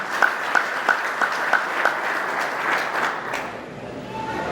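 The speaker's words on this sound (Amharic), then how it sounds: "እስቲ እንደገና አጨብጭቡላችሁ" A church audience applauds, with a few sharp, evenly spaced claps standing out over a softer steady clapping that fades away toward the end.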